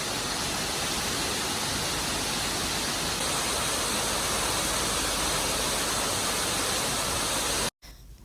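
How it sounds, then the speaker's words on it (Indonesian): Artificial waterfall inside a shopping mall, a loud, unbroken broadband rush of falling water filling the space, steady for about eight seconds before a brief cut. "Di sini ada air terjun buatan."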